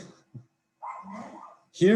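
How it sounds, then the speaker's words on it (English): A dog barks indoors in a home office, a few short barks at moderate distance, with a sharper, louder bark at the end; no talking alongside it. "I apologize if the dog is barking, someone is ringing the doorbell."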